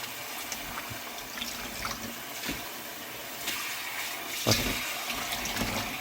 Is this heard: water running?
yes